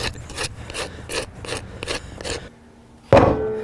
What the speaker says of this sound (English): it looks like I need to scrape off about 2 years of sludge